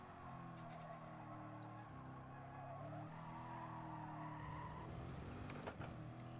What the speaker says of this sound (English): I didn't think I'd be able to go that fast with a Corvette